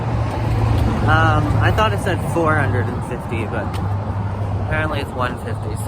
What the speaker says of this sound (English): Sorry that the traffic is so loud.